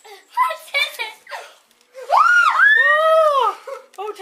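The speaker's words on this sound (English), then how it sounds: "Oh, don't scream." A child gives a long, loud, high scream of excitement on opening a surprise Christmas puppy box. Voices talk and exclaim just before it and again as it ends.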